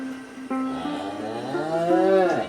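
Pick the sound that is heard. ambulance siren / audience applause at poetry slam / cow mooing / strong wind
cow mooing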